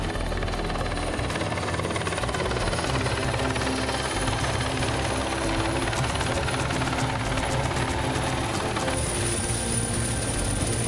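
A helicopter flies nearby at Vøringsfossen, Norway, its rotor chop beating steadily under a constant loud engine whine throughout.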